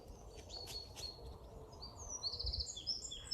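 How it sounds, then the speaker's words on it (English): Blackbirds sing in ancient woodland, with clear whistled phrases and quick trilling notes over quiet background noise. "I can hear blackbirds primarily."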